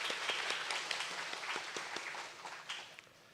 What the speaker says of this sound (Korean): 다시 한번 귀한 찬양 영상 준비하신 우리 갈릴리 찬양대 큰 박수로 격려하겠습니다